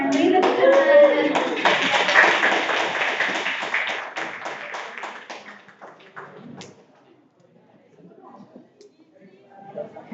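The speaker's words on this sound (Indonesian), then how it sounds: "Beri tepuk tangan." An audience at the IKMI national robot competition in 2026 breaks into a burst of loud clapping that thins out and fades over several seconds, with scattered voices audible.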